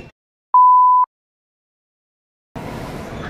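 A single clear electronic beep, about half a second long, sounds from an order pager at a café, loud and close against near silence. Louder background bustle rises a couple of seconds later.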